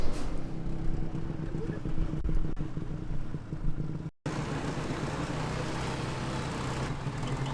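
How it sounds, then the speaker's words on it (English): Tuk-tuk ride through the streets of Chiang Mai toward the night bazaar: a constant engine drone with surrounding traffic and wind noise, loud and close, briefly cut near the middle. "We are now in a TukTuk, heading over to the night bazaar."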